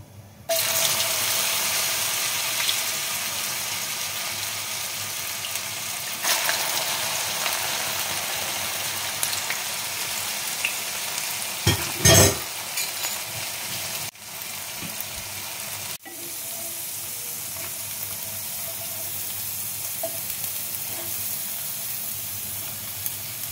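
Taro stolon (gathi kochu) chips frying in hot oil, a loud, steady close-up sizzle that runs continuously with a few brief clatters and scraping stirs, no talking.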